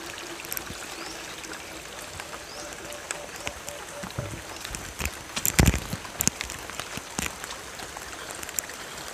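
Water from a natural spring used as a local water source, trickling and gurgling steadily close by, with a brief louder splash or knock midway through.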